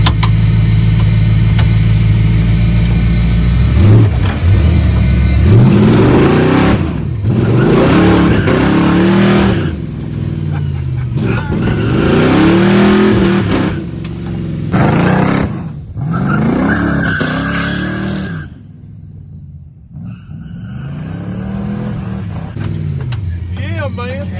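Supercharged 1955 Chevy with a Vortech V3 blower doing hard launches and a burnout: a loud, close engine roars through repeated rising and falling revs, with a brief drop-off before it surges again.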